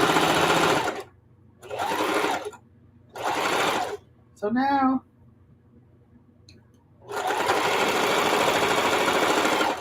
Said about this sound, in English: I'm sewing that down